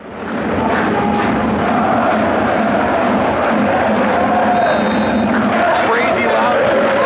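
Fans at a German soccer match roar loudly and continuously late in the game while their team trails. The dense crowd din fills the whole stretch, with voices audible in it.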